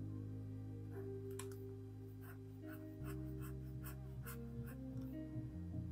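A fountain pen with a grass nib scratches across paper while brown inks are swatched, giving faint, close, rapid scritching strokes over steady background music.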